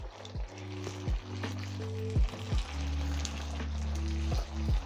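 Red capsicum is stirred into a simmering chicken breast stew, giving a steady low bubbling sizzle with soft periodic spoon strokes over a faint tonal background.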